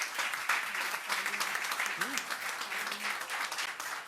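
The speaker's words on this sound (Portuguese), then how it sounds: "Mais uma salva de palmas para o Márcio." An audience at a plenary lecture applauds in a dense, continuous round of clapping, fairly close and steady, with faint voices mixed into the crowd noise.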